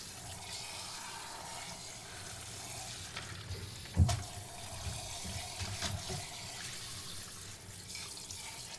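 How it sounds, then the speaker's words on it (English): Tap water runs into a rock tumbler barrel as it and its agate rocks are rinsed, a steady splashing flow with a sharper clunk and slosh midway, close by and without talk. "we're going to dump her out and rinse out the barrel and rinse off those rocks"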